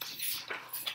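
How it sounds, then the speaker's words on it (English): A dog passes close by with a quick whimpering yip and soft scuffling, brief and fairly faint. "I think you just heard my dog run by."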